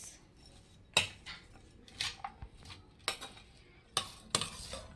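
Tandoori salad being mixed with lemon juice in a bowl, quiet and close, with a handful of sharp spoon clinks and taps spaced between softer rustling.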